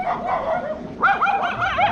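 A dog barks in a quick series of sharp, close barks, rising into a rapid run of yaps toward the end.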